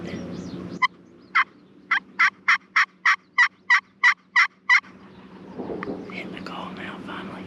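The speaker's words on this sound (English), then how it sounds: "Double gobble just now." Wild turkey gobbling on Maryland state land, heard as a rapid run of about a dozen clipped, rattling notes in a tight rhythm, moderately distant. Soft whispering and rustling come before and after the gobbles.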